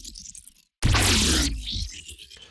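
A whoosh pass-by layer built for sound design: a short rumble, a brief gap of silence, then a loud broadband rush that swells in and tails off over about a second, alone with no voices.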